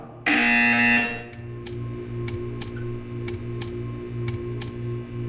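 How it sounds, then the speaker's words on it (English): A loud electronic buzzer in the video game Portal 2 sounds for about a second, then a steady hum continues with a series of regular ticking clicks. "You will hear a buzzer."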